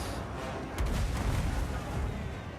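Artillery fire in a fantasy strategy video game battle during a siege of Eight Peaks, a dense rumbling barrage with a sharp boom near the start and continuous low thuds over battle noise.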